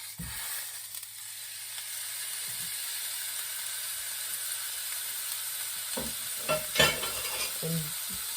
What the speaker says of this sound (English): you don't want it cooked, but you do want it, just kind of lightly seared.